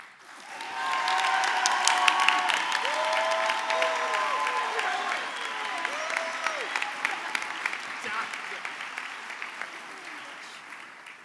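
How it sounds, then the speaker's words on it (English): A graduation ceremony audience gives a sustained round of applause for the educators, in a dense, even clapping that swells and then slowly fades. Voices sound faintly within the crowd. "You deserve a big round of applause for your excellent work."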